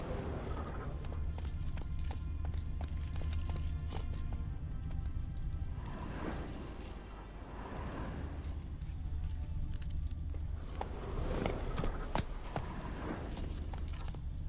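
Hooves of a galloping horse in The Witcher 3 clatter steadily and continuously, with a rhythmic clip-clop over a dense, constant game soundscape.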